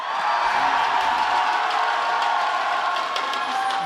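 An esports crowd at an IPL5 League of Legends match roars and cheers for CLG EU, a dense, loud, continuous wall of screams and whoops that holds for several seconds.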